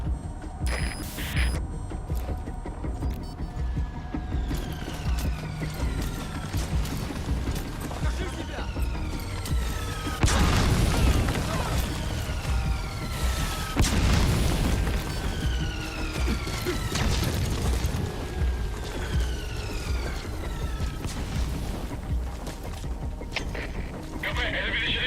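Artillery shells explode in Metal Gear Solid V, heavy booming crashes and rumbling blasts arriving in waves over a constant low hum, with falling whistles between impacts and voices talking over the barrage.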